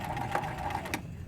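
A sewing machine back stitching fabric for a teddy bear: a quick, steady whirring run of stitches with a mechanical clatter, heard close and fairly quiet for just over a second.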